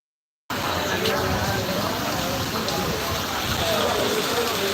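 Heavy rain pours down steadily after a brief silent start, a dense loud hiss of drops on surfaces continuing to the end.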